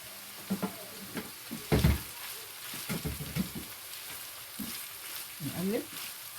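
Grated peppers hitting a pan of softened onion, frying with a steady close sizzle broken by several sharper bursts of stirring and spattering; no talk over it.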